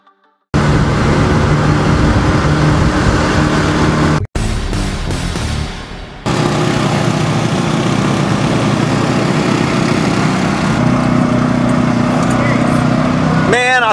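A 2019 Kawasaki Mule PRO-MX utility vehicle drives across a vineyard with a steady engine drone that runs almost the whole time, briefly cutting out and changing pitch partway through, loud and close.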